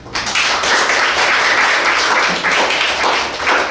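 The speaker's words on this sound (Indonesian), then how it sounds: "Ya, bagus sekali, tepuk tangan buat." A class applauds a student in a lesson on Hindu self-discipline teachings; loud, close, continuous clapping from a room of people runs the whole time without talk.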